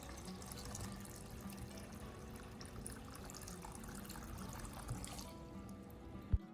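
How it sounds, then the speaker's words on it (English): Water runs steadily from a tap into a bowl of eggs, a continuous close splashing pour lasting several seconds, ending with a short sharp knock. "Then pour in enough water to cover them."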